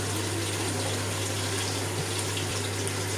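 Hot water pours into a pot of vegetable khichuri made with Gobindobhog rice, a steady, continuous rushing splash from start to finish with no voices.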